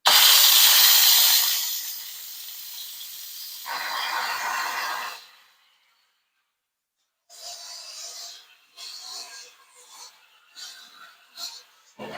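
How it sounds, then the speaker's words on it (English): An electric pressure cooker holding cooked zucchini vents steam in a loud, sharp hiss that quickly drops to a softer, steady hiss, swells again, cuts off, then returns in short intermittent bursts. "Cancel, release steam."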